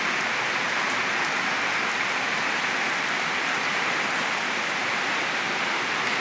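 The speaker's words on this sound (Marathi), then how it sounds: "सकाळपासून टिपका टिपका पाऊस चालू आहे" Steady, even hiss of rain falling continuously, a dense wash of fine patter with no voices, unchanging from start to finish.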